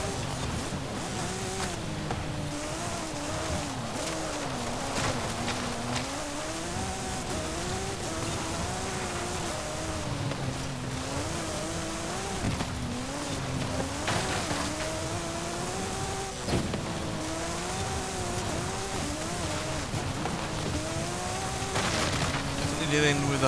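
A 1989 Porsche Rothsport Racing 911 'Desert Flyer' race car in an offroad driving game, its engine droning and rising and falling in pitch through revs and shifts, steady and close throughout with a voice talking over it.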